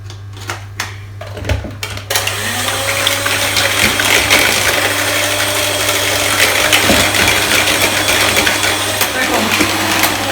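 Electric mixer whipping egg whites into foam for a quick fruit crumble cake, whirring steadily and fairly loud after a few opening clatters, with a constant low hum running underneath.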